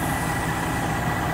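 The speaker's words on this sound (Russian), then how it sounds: "Вот показываю давление его на холостых. Он прогретый, видите, 35. Работает мотор" A warmed-up truck engine idles close by, a dense, steady low rumble that holds at constant loudness without change or other sounds.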